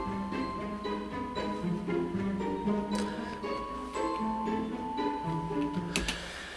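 Quiet orchestral texture of plucked pizzicato string notes with a glockenspiel chiming sparsely above, light and steady with a few brighter strikes near the end, no voices.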